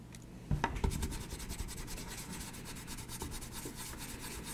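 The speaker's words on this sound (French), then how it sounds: "je frotte avec un chiffon de laine jusqu'à ce que je sente que ça devient chaud" A wool cloth is rubbed briskly over an oiled wooden utensil, giving a soft, steady rasping friction close up, with a sharper scuff near the start and no talking.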